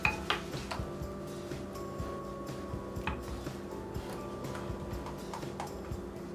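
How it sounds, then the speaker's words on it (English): Spoon clinking and scraping against a pot while sloppy joe sauce is stirred, with irregular sharp taps and clatter at moderate distance over a quiet, low kitchen hum. "You stir up the sauce."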